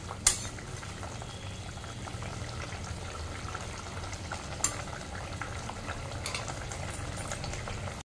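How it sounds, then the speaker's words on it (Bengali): Hilsa fish simmering in yogurt sauce, a soft continuous bubbling and sizzling from the pot, with a couple of faint clinks. "এটা একটু ফুটে যাবে, তারপর আমি এটা নামিয়ে নেব।"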